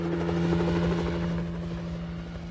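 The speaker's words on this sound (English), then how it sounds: "I'm impressed you've got your own whirlybird." Anime helicopter in flight, a loud steady rotor thrum and buzzing engine drone that holds throughout and eases slightly toward the end, with no voices.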